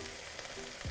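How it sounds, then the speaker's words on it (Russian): Potatoes fry in a pan with a steady, soft sizzle and a brief stirring scrape near the end, heard alone at low volume. "вот здесь нужно картошку пожарить"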